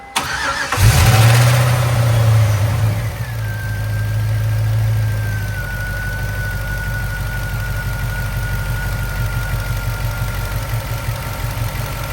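A 1965 Ford F100 engine starts and settles into a steady idle with its valve cover removed, lifters clattering in a rapid ticking rhythm close by, with a faint whine running through the idle.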